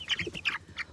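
A chicken chick under four weeks old gives several quick, close high peeps in an uneven rhythm.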